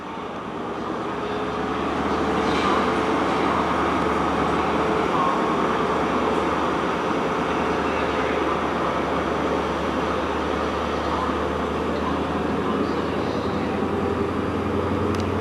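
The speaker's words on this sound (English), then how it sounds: "It's the 1201 Great Western Railway service from Penzance to London Paddington" A Great Western Railway train, the 1201 service from Penzance to London Paddington known as the Up Cornishman, rumbles past at Plymouth as a steady, broad roar that swells in over the first seconds and holds at a distance with no voices.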